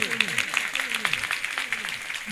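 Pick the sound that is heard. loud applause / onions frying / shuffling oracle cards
loud applause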